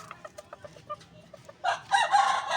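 Fighting cocks cluck in a short series of quiet, separate notes, then break into louder, harsher squawking toward the end, with no talk.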